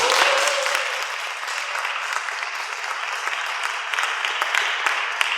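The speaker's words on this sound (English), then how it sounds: "I would really love if we could praise and applaud again for Torch." Steady, even applause from a seated audience at a poetry reading evening, a continuous wash of many hands clapping at moderate level with no voices over it.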